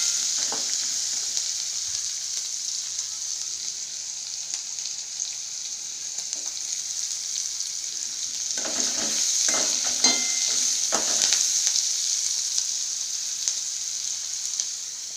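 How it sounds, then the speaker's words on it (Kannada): Curry leaves and onion frying in hot oil, a steady loud sizzle with a few brief bursts of crackling and stirring near the end, no talking. "ಈಗ ಕರಿಬೇವು ಹಾಕೋಣ, ಜೊತೆಗೆ ಈರುಳ್ಳಿ, ಸ್ವಲ್ಪ ಬ್ರೌನ್ ಕಲರ್ ಬರಲಿ."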